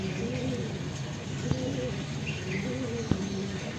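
Pigeons on a rooftop coo in low, rolling repeated phrases at moderate distance over a steady background hiss, broken by a couple of brief sharp clicks.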